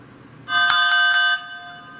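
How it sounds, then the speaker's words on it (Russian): Notification chime on a Blackview BV9500 smartphone, a single short bright melodic alert of three quick bell-like notes, close and clear against a quiet background. "Вот и тут звук уведомления изменился."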